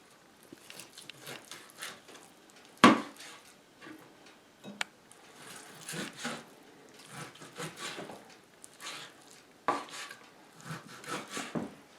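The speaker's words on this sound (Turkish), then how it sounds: "Evet etimizi de doğrayacağız." A knife chops meat into small cubes in a Black Sea village kitchen, giving irregular close taps and knocks on a board with pauses between bursts of cutting, and no talk over them.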